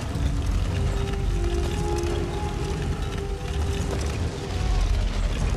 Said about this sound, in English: Why does it keep making that grating sound even when I'm not pushing it?